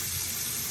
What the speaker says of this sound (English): Let's see how the faucet works.